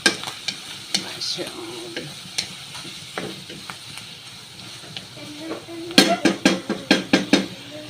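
Ground meat and mushrooms frying in a pan as spaghetti sauce is started, with a sizzle under repeated clattering stirs and scrapes that grow louder and quicker toward the end.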